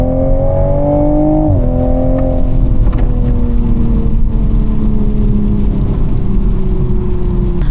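2022 Toyota Supra 3.0 engine droning loud and close as it cruises on a wet road, a steady hum with a brief dip in pitch from a shift, tire hiss and spray from the damp surface underneath.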